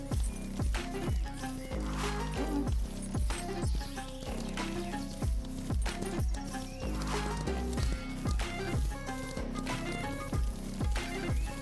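Horses trot together on a ranch, their hooves clip-clopping in a steady rhythm of sharp, close strikes that carry through the whole stretch, with no one speaking.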